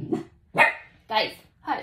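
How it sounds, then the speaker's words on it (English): A dog barks close by in three or four sharp, evenly spaced barks, while a person briefly speaks to hush it. "pardon my dog"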